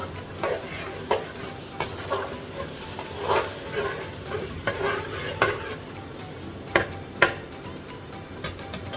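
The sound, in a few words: stirring and frying spice masala in a pan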